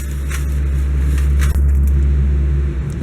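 Road repair work out on the street right beside a driveway fills the air with a loud, steady low rumble of heavy machinery, with a faint hiss above and one brief dip partway through.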